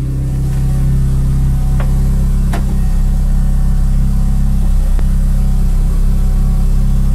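A car engine with a newly installed Gripper limited-slip differential runs steadily and close by, a constant drone with a few brief changes in pitch. There are no voices.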